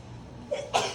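A single close sneeze breaks out in a classroom during a biology review lesson: a short in-breath, then a sharp, loud burst fading quickly, with no talk over it.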